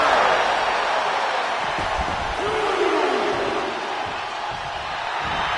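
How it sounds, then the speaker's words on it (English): A wrestling crowd in the WWE 2K25 video game roars in a broad, loud, sustained wash of cheering, with a faint whoop rising through it. "He's pumped up, and so is this crowd."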